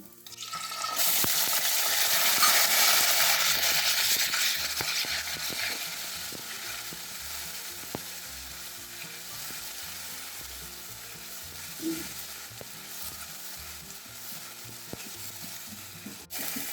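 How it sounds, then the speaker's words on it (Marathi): Ground green chili and garlic paste frying in hot oil with cumin and curry leaves, starting with a loud burst of sizzling that settles into a steady crackle, with occasional clinks and scrapes of stirring in the pan, close and without voices. "आता आपण मिरची लसूण जे वाटून घेतलं ते घालून घेऊ"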